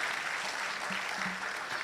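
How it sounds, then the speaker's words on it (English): Audience applause fills an auditorium at a university business school Management Day celebration, a steady wash of many hands clapping throughout at moderate, slightly distant level with a few faint low murmurs underneath. "A round of applause to all of you."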